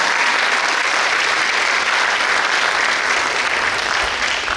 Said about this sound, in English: Please give the entire crew and the dancers a big round of applause.